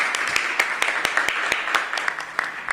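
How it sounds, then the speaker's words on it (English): A small audience applauds at a mayor's coronavirus update event, giving sparse, distinct claps with a light murmur of voices beneath. "Let's give her a big round of applause."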